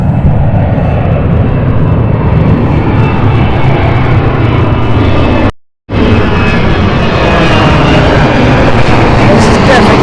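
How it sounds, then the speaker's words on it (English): A Germanwings airliner going around at London City Airport, a steady broadband jet roar filling the scene, loud and continuous apart from one brief cut, with no talk over it. "There's a go around, so that it looks like German Airways may be coming into operate."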